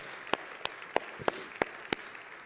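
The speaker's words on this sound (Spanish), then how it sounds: "Dale un fuerte aplauso, Señor." Six sharp, evenly spaced claps ring out one at a time during a church sermon, against a quiet background, steady and moderately close.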